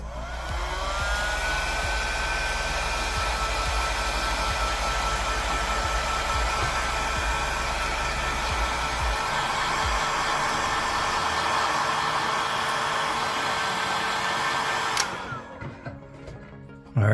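A heat gun blows a steady, loud whoosh of hot air onto the screen of an iPhone 14 during a screen replacement, running continuously for about fifteen seconds before cutting off.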